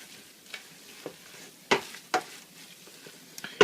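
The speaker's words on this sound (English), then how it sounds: "Now, just stir the skin." Crawfish and crab shells are stirred in a pot over low heat, giving a few soft, spaced scraping knocks over quiet background.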